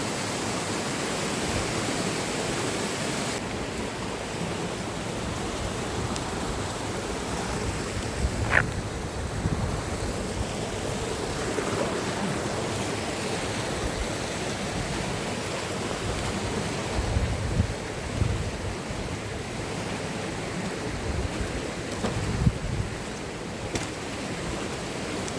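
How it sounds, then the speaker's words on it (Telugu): Floodwater rushing steadily after cyclone rain, a dense continuous wash of flowing water heard close and fairly loud throughout, with no voices. "వాటర్ చూస్తున్నారా ఎలా వెళ్తుందో?"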